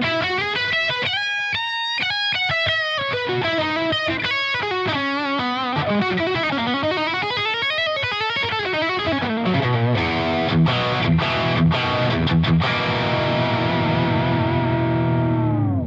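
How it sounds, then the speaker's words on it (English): Boosted lead guitar with heavy saturation played through a Brunetti Mercury 50W head on the bridge humbucker, fast runs and bends followed by sustained chords, loud and continuous with no talking. "So really great lead sound, tons and tons of saturation."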